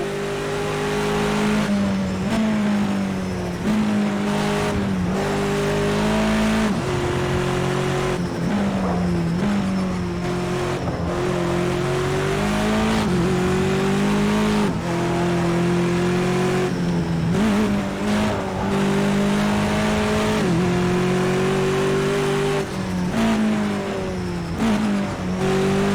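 A V8 engine of a Ford touring car in a racing video game roars continuously through gear changes, revving up and down with steady loud drone and occasional tire squeal, with no talk over it.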